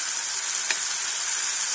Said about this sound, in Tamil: பச்சை ஸ்மெல் போற வரையும் நல்லா வதங்கட்டும், எண்ணெயிலேயே வதங்கட்டும்.